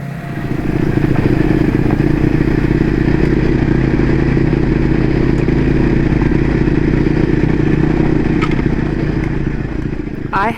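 Triumph Scrambler 400 X motorcycle engine running steadily up close, a loud continuous mid-pitched drone with rattling clatter and slight changes in revs, heard alone without talk.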